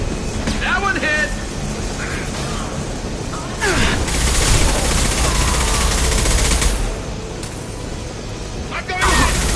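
Video game gunfire aimed at enemies, bursts of rapid shots and booms rising and falling in loudness over rumbling background action, with voices speaking over it.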